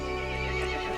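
A horse from the video game Resident Evil Village lets out one sustained, loud whinny, a close, bright neigh that fills the whole moment without any talking.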